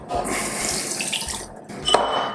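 Water poured from a small container into a small blender already holding dates and chia seeds, a steady close splashing trickle with a brief clink near the end.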